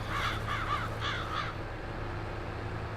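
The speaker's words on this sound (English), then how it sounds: "Oh, crows getting angry." Several crows caw in Farming Simulator 22 on a rural farm map, a quick cluster of harsh calls then another pair, fairly close, over a steady low game ambience that continues alone afterward.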